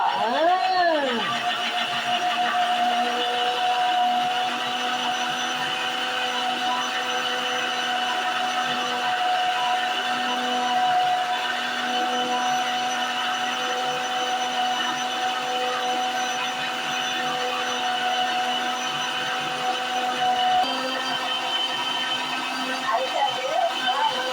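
A mixer grinder whirs steadily and loudly, grinding spices for a village-style Sankara fish curry, its motor tone starting up and holding constant for the whole stretch.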